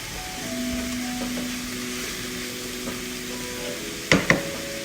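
Onions fry in hot oil in a pan, giving a soft, steady sizzle with a faint background hum, then two sharp clicks near the end.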